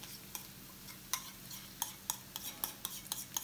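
Salted egg sauce being stir-fried over medium heat with chili paste in a pan, probably with squid, giving a sequence of scraping clinks from a utensil over a soft, steady sizzle, with no talking.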